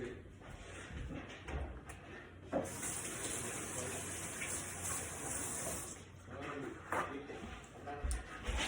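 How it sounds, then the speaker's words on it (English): Hands washed under a running tap in a home kitchen, a steady gush of water into a sink with faint splashes and a few knocks, fairly quiet with some background voice. "I'm just gonna go wash my hands."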